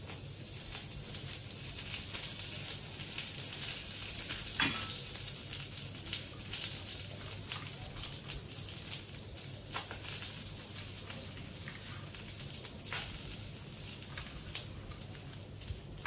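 Curry leaves hit hot oil with mustard and turmeric on a low flame for a mixed vegetable sambar, producing a continuous crackling sizzle with scattered sharp pops.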